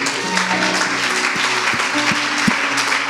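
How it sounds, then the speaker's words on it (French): Church congregation applauding together in a steady, dense wash of claps that fills the space, with a few voices sounding over it and some louder claps standing out. "Jésus est bon et ça mérite une acclamation."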